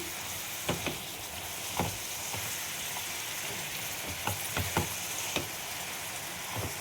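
Koi fish sautéing in hot oil with turmeric, salt and spices gives a steady, close sizzle, broken by occasional sharp scrapes and taps of stirring.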